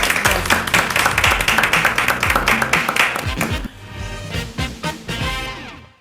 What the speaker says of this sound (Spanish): Nos vamos con un aplauso.